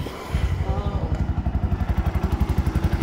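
Bajaj BS6 motorcycle engine idling close by with an uneven, misfiring beat, a steady pulsing chug that stumbles irregularly, with no other sound over it.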